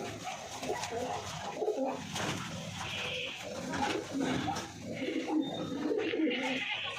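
Pigeons coo in a pigeon house, several birds giving soft, low, repeated throaty calls close by, with a faint background hum and occasional higher chirps.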